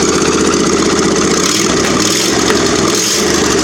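A steady engine idles evenly without stumbling, a continuous loud mechanical rumble with no voices.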